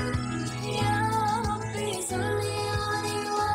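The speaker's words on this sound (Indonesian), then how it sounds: "Perkusi kayaknya kahon" Cajon percussion thumps along steadily in the mix of a devotional song, with sung vocals and melodic instruments layered above the beat.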